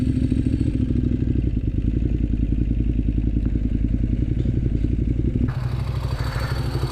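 A motorcycle, an Aprilia Dorsoduro 900 or Ducati 1098 S, runs close by with a loud, steady throbbing engine and fast rhythmic pulses, then the tone shifts abruptly as it pulls up.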